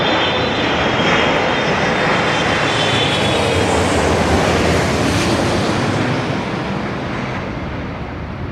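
Loud, broad roar of a Saudi Arabian Airlines airliner coming in to land, a sustained jet rumble that fades slightly toward the end.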